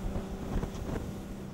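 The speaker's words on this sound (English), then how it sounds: "Let's accelerate to find a faster cruising speed." A Cap 28 motorboat with twin Yamaha outboard engines speeds up on open water, giving a faint, steady roar mixed with wind rush and no voices.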